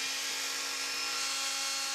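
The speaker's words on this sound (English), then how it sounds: "I found an electric whisk." An electric whisk runs steadily and alone, a continuous high motor whine with no break, close and fairly quiet.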